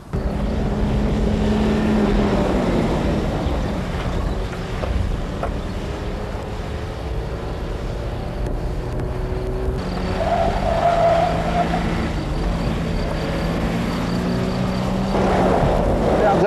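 A Mitsubishi 4x4 grinds along off-road with a loud, steady rumble and heavy wind buffeting, the engine note shifting as it slows under hard emergency braking, with faint skidding texture under the drone.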